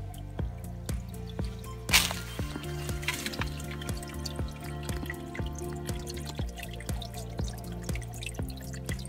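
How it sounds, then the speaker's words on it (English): Spring water at an Appalachian Trail spring in Shenandoah country trickles and drips in below-freezing weather, with clear, regular close drips over a faint flow and no voices. "Just a trickle right now,"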